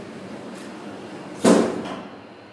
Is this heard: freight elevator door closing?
yes